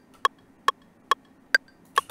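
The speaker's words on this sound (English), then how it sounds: "like the metronome on Ableton sounds like this." Ableton's metronome clicks five times at a steady tempo, short crisp ticks heard close and on their own with quiet between them.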